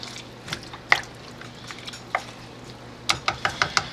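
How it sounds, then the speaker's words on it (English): A wooden spoon stirs stew in a slow cooker, giving scattered soft scrapes and knocks with wet squishy sounds, ending in a quicker run of clacks against the pot. "We're going to give everything here a quick stir with our handy dandy wooden spoon"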